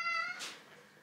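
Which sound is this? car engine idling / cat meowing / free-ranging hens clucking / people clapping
cat meowing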